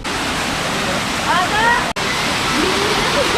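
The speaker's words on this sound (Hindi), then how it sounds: "इधर भी वाटरफॉल है।" Water pours down a waterfall in an underground section of Rock Garden, Chandigarh, making a constant broadband rush with a few brief chirping sounds over it.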